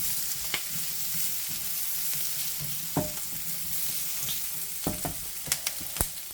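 Food cooking down in a pan with its own juices, sizzling and frying in a steady, soft hiss, with occasional sharp clinks and scrapes of a utensil stirring.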